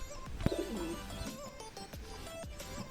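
Soft pigeon cooing, low and murmuring, repeated faintly under a hum of background noise.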